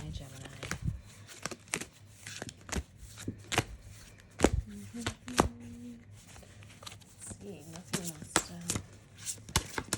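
A deck of tarot cards is shuffled in quick riffling bursts and sharp flicks, close by, with a voice talking between them.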